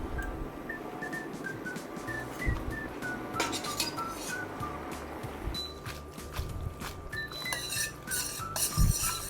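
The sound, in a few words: tossing spaghetti alle vongole in the pan with sauce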